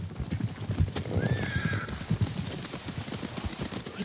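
Horses in the Ghost of Tsushima video game approach with steady clip-clop hoofbeats over grass, a neigh rising midway, moderately distant and with no talking.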